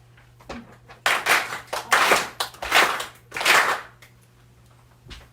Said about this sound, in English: Please clap your hands 4 times with the officiant.